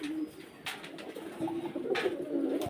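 Low pigeon coos roll on continuously, a few birds close by, broken by a couple of short rustling bursts like wings flapping.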